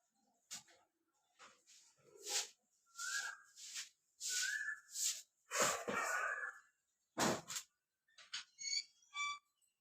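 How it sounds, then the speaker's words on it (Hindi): An Asian koel calling outdoors near a home in the morning, a series of clear, rising whistled notes repeated in short bursts, moderately close, with faint household sounds and a few quieter chirps between calls. "और आप लोग सुनिए कोयल की आवाज़।"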